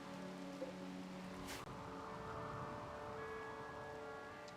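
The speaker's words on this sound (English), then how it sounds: "I really want the rain to stop right now." Steady rain in the colony-building game Rimworld, a soft continuous wash with some background game tones, one brief louder tap partway through, no speech.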